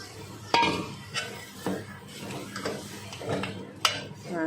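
Boiled potatoes tipped into a pan of spiced dry sabzi and stirred, with sharp clinks of a spoon against the pan and soft scraping and light sizzle, close by, a voice speaking over it.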